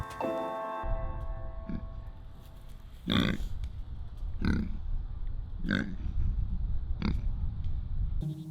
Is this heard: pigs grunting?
yes